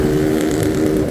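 A small vehicle's loud exhaust silencer drones steadily nearby in Rishikesh traffic, a constant throaty engine hum with no pauses, fairly loud throughout.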